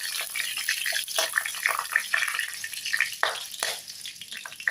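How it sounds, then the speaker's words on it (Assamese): Bay leaves, cinnamon, cardamom and cloves crackle and fizz in hot ghee, a bright, close sizzle with a few stirring scrapes, for a pulao. "ইলাচি, লংকেইটা দি দিছোঁ। এইকেইটা অলপ ভাজি দিম।"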